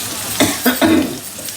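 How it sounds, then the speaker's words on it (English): Onions sautéing in a pan on the stove, with a few short bursts of stirring and scraping over a soft, steady sizzle, close by and moderately loud. "All right, the onions are sauteing."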